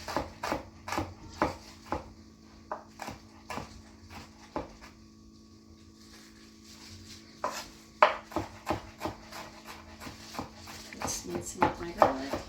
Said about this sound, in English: mincing up my garlic.